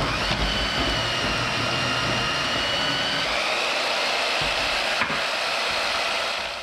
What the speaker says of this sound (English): I'm gonna cut this out of here and then try to drill out the tubing